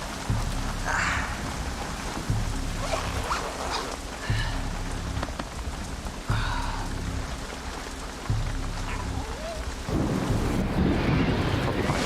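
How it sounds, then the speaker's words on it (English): Heavy rain drums on a tent during a night thunderstorm in the mountains, a dense, continuous hiss with repeated low rumbling thunder swells and gusts, loud and close, with no voices. "it was absolutely thundering down on the tent"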